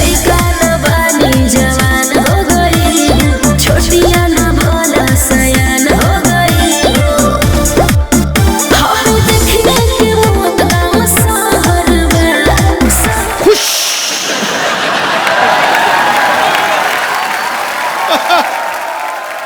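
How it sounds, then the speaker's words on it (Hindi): A studio audience at a comedy talk show applauds loudly over a thumping music sting, then the music cuts out and a broad, steady wave of clapping and crowd noise carries on alone. "उनके लिए जोरदार ताली"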